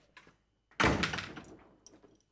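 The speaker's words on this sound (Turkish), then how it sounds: "Kapat kapıyı göreyim." A door in a home is pushed shut with a single solid thump that trails off, after a brief soft rustle and a faint knock at the end.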